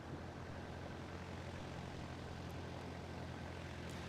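A small certified airplane takes off from a dirt strip at a STOL competition in Moses Lake. A steady propeller-engine drone holds at moderate level from start to finish, with broad roar and low harmonic hum and no talk.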